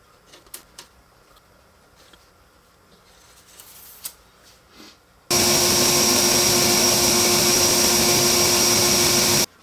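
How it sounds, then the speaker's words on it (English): A belt sander rounding off small wooden picture frames: quiet shop handling and clicks give way abruptly to a loud, continuous abrasive whir that runs steadily to the end. "I'm going to round them off over at the belt sander."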